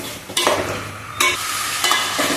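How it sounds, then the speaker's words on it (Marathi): Chicken frying in oil in a pot for biryani, a steady loud sizzle with three bursts of stirring scrapes spaced about a second apart; no talking. "चिकनला असंच फ्राय करून घ्यायचं तेलामध्ये थोडंसं फ्राय करून घ्यायचं"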